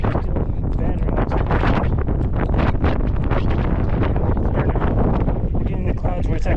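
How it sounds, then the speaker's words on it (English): Strong, relentless wind batters the microphone on the Carrauntoohill mountain ridge in cloud and mist, a loud continuous roar with gusty buffeting and a voice partly buried underneath. "Wind's still battering us."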